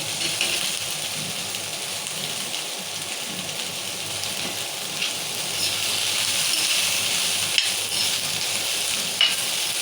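Green chillies and masala frying in a pan for an egg masala curry, a steady close hiss and sizzle that holds evenly throughout, with no talk.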